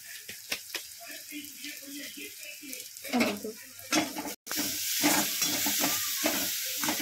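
Turmeric and masala sizzle in a pan of oil for Maggi noodles, with scraping stirs and clinks of a spoon against the pan. Someone talks over the cooking, then the frying swells into a steady hiss.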